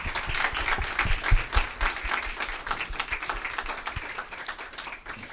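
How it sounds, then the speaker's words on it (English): An audience applauds a panel at a think tank launch event, with steady dense clapping that holds at a fairly even level for the whole stretch, swelling briefly near the middle, with no talk over it. "If we can get a big round of applause for our panelists."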